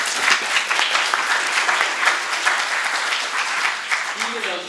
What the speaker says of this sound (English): you can give Ellie a round of applause as well